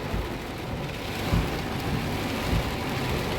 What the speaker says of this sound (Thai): ฝนตกห้ามเลยคุณ ต้องเดินหมดกับน้ำท่วมเลย